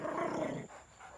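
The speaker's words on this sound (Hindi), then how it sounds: "तू क्या गुर्रा रहा है?" A dog growls low and close, a short rumbling snarl that fades out within about a second.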